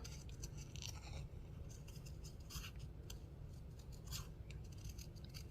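Scissors snipping through a paper card for a bubble fish craft, a series of quiet crisp cuts at an irregular rhythm, close and soft with no talking.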